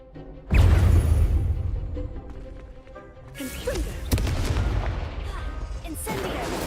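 Incendio fire spell cast in the video game Hogwarts Legacy erupts as a sudden loud whooshing burst that decays over a couple of seconds, followed by further impacts and crackling effects, with a voice speaking in the clip.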